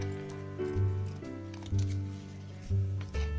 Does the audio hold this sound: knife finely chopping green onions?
no